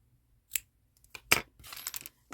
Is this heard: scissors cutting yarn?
yes